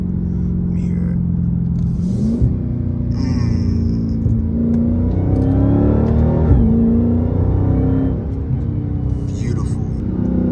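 Car engine idling and revving through its exhaust, a steady deep rumble with gentle rises in pitch, heard at moderate distance with faint talk in the background.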